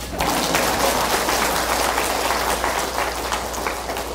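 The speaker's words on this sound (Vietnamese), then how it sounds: "Bravo, vỗ tay." Audience applause at a Buddhist dharma talk in Vancouver, a dense, steady wash of many hands clapping at close range for several seconds.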